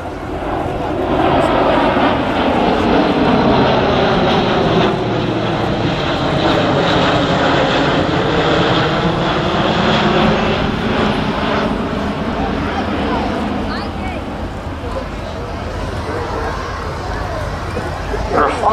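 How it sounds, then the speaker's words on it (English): A large Airbus A400M Atlas four-engine military transport flies past at the Royal International Air Tattoo air show, its engines producing a loud, continuous heavy roar with a slowly shifting pitch that eases slightly toward the end. "test pilots Ed Strongman and Anthony Flynn with the Airbus military A400M, now known as the Atlas"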